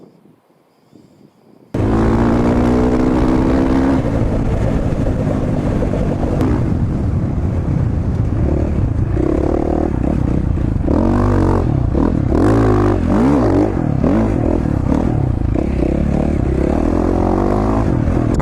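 A motorcycle rides on the Weiser sand dunes, its engine loud and close with a steady drone and repeated revving swells, after a brief quiet start and with some wind buffeting.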